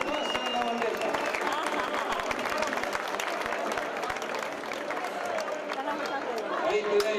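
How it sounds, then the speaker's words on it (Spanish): Audience applause ringing around a bullring at a village festival in Cadreita, dense continuous clapping from a large crowd with a voice talking over it. "hacen la vuelta al ruedo agradeciendo el aplauso del público."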